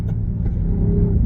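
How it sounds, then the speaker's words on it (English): A 2023 BMW XM's V8 engine roars at high revs on a highway, a deep rumbling growl with a popping, banging exhaust that rises steadily in pitch as it accelerates, heard from inside. "it's popping and banging. V8 sound."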